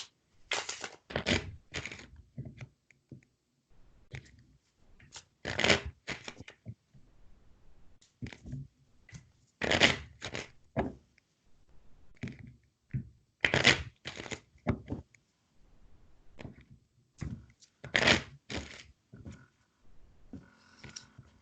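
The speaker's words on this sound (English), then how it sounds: "I'm about to get loud with shuffling." Cards are shuffled on a tabletop in loud, crisp bursts, riffling and tapping in repeated rounds with short pauses between.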